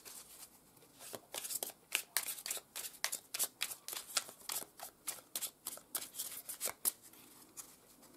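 Tarot cards shuffled steadily by hand, a rapid run of crisp riffling and slapping bursts close up, with no talk over it.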